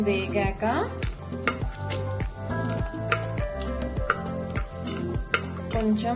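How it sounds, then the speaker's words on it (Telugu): Whole spices sizzle in about three spoons of hot oil for vegetable khichdi, a close, crackling fry with regular clinks and ticks of a spoon stirring the pan. "ఆయిల్ వేసుకున్నాక ఇప్పుడు ఈ మసాలా దినుసులన్నీ వేసుకుందాము."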